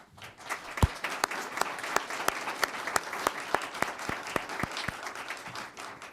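Audience at a school board meeting applauding, a modest roomful of individual claps ringing out crisply and fairly evenly for several seconds before tapering off.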